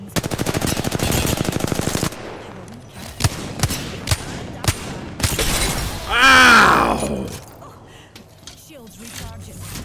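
Rapid automatic gunfire in the video game Apex Legends, a loud sustained burst followed by scattered single shots and a shattering crash, with voices talking over it.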